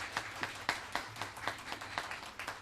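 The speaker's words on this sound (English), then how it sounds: "Principal Pelzer, give him a round of applause" Scattered, fairly faint clapping at an elementary school gathering honouring the principal, a small group producing distinct uneven claps at a moderate pace rather than a dense roar.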